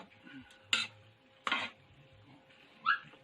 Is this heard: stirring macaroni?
yes